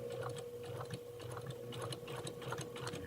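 A sewing machine runs a straight seam along a ruler, giving a continuous fast rhythmic whir with quick stitching clicks, heard close and fairly quiet throughout, with no talking.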